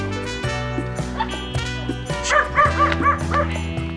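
An aspin (Filipino street dog) barks and yips repeatedly at close range, with short whiny cries between the sharp barks.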